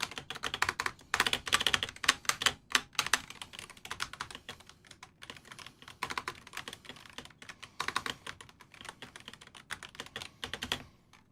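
Typing on a KBDfans x MM Hall effect mechanical keyboard fitted with Gateron Jade switches, a quick irregular stream of close, crisp keystroke clacks in bursts separated by brief pauses, with no talking.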